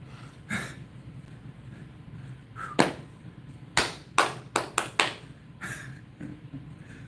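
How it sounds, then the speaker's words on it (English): Hand claps during a live workout stream: sharp, close slaps in an uneven burst, with several quick claps clustered together between sparse taps. "let's do some claps and some shoulder taps"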